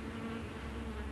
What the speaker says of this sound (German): An einem Mittwoch im Mai setzt sich ein Bienenschwarm in einer Dachrinne der Gasoline Alley fest.